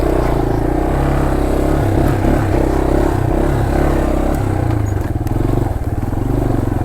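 A 1983 Yamaha Tri-Moto 200 three-wheeler engine held at full throttle gives a steady, loud, close mid-pitched drone with a slight dip and wobble near the end, suggesting a bog; no talking.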